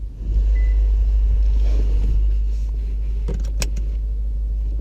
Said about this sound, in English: we can just hear the engine as it is with no enhancements